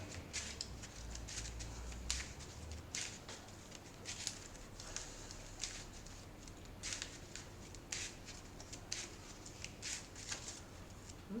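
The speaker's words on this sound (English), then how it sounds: "It's all shuffled up here." Cards being shuffled for a Marvel Champions card game, with repeated soft riffling and snapping bursts at a steady pace over a low background hum, fairly quiet.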